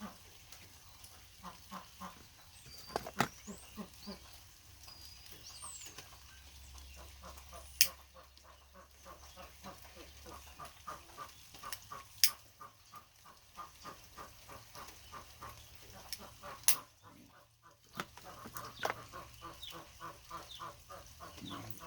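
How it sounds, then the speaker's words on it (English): Six ducks in an outdoor pen quack repeatedly in steady bursts at moderate distance, with a few sharper louder calls standing out against a low background hum. "I have 6 ducks in a pen out in front of my house."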